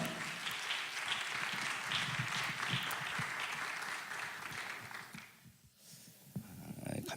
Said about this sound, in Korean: 큰 박수로 환영했으면 좋겠습니다